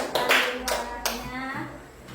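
A classroom of children claps in a short burst of applause that lasts a couple of seconds, with a few sharp individual claps standing out.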